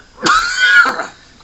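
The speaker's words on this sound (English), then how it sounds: "I'm starting to get that hacking cough for the 19th time" A single harsh, raspy cough burst from a nearby person, lasting under a second before fading out.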